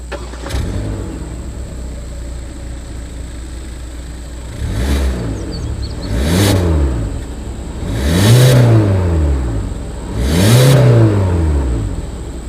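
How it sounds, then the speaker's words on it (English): A 2020 Hyundai Elantra engine idles, then revs up and down in four rising and falling pulls, each louder, with a deep exhaust note. "As always, here is that exhaust clip."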